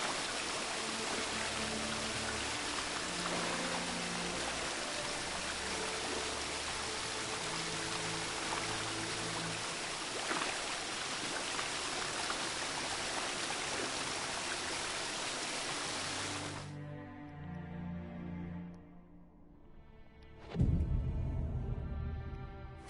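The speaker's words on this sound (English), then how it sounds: "I'll meditate under this waterfall." Steady rushing waterfall from the game Witcher 3: Blood & Wine, a loud continuous wash of falling water with faint music underneath, cutting off abruptly near the end before a short splash.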